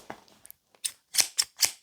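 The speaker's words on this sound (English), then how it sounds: "So we're just gonna chop the collar right off." Scissors snip through the fabric collar of a shirt in a handful of short, close, crisp cuts, the last three quick and evenly spaced, with no talking.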